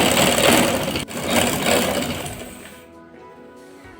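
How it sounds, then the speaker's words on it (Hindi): A sewing machine stitches the seat seam of a simple trouser with a continuous, busy mechanical hum that fades toward the end, close and moderately loud with no voice. "ये देखें, मैं आसन की पूरी सिलाई लगाती हुई आ जाती हूँ।"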